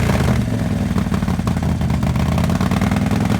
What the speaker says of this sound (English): The sound of the exhaust is unmistakable.